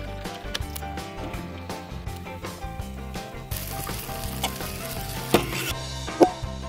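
Butter sizzles and crackles steadily in a hot frying pan inside a camper 4x4 van, close up, with a few louder pops over a faint musical background.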